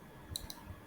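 A few quiet, sharp computer mouse clicks, two close together near the middle, made while writing physics notes by hand with the mouse on a screen.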